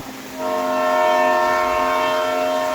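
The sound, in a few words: train arriving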